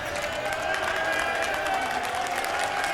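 The Michigan bench clapping and cheering during a college basketball game against Maryland, with steady crowd applause and murmur filling an arena, moderately loud and continuous.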